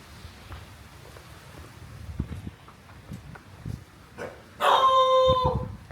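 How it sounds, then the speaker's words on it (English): A big dog barks and yips in short bursts, then breaks into a loud sustained howl near the end, close by at a house. "Let's go meet the big dog."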